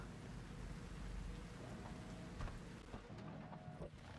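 Rain falls in Cyberpunk 2077: Phantom Liberty, a faint, steady hiss of downpour with a low rumble beneath and a few scattered drips and ticks, with no voices.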